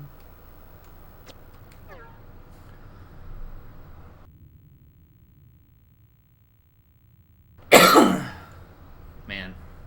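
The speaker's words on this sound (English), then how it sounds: "Man, these coughs aren't doing much for me" A man coughs and clears his throat close to the mic in a sharp burst, with a softer cough just after, over faint game background sounds during a casual playthrough of Koudelka.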